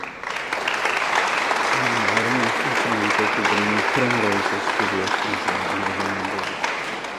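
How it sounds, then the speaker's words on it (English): Loud, sustained applause from a sizeable crowd at a youth cricket tournament media launch, steady clapping filling the whole stretch with a few voices mixed in. "with a big round of applause"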